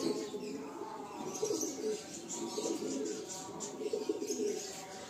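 Pigeons sold as flying birds coo steadily at close range, a male among them displaying with repeated low rolling coos, while faint bird chirps rise above.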